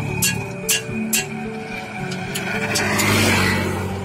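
A tractor with a rotary tiller works a rice paddy in a steady mid-distance engine drone, its load rising toward the end, with sharp intermittent clacks over it.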